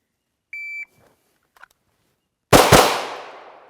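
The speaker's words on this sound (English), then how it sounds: "Now he's going to do 2 shots." A shot-timer beep is followed by two sharp gunshots fired in quick succession as a double tap, close and loud, with their echoes trailing off.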